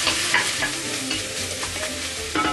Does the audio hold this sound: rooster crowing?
no